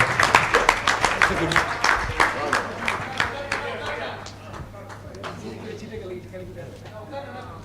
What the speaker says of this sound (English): Ladies and gentlemen, you can be very generous with your applause. Please put your hands together